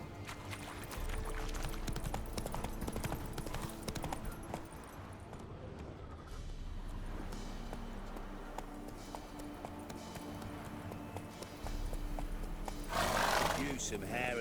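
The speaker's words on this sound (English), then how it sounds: "Run, Roach." A horse in The Witcher 3 video game gallops with clip-clop hooves and an occasional neigh, heard under voices and dense background game sound throughout.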